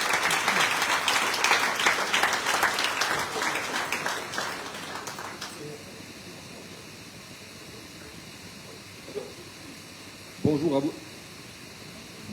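Audience at a Guadeloupe solidarity-days event applauding the arrival of the regional prefect, a dense burst of clapping for about five seconds that stops abruptly, followed by quiet room tone with a brief voice.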